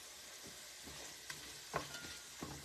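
Vegetables for pasta fagioli sauté quietly in a pan, a soft continuous sizzle broken by a few light scrapes and taps of stirring, with no speech.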